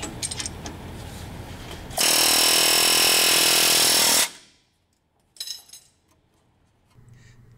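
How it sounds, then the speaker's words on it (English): Air hammer working a brake bolt on a 2006 GMC Canyon front brake job: a loud, close, continuous rapid hammering burst lasting about two seconds, followed by quieter clanks of tools. "You need a air hammer."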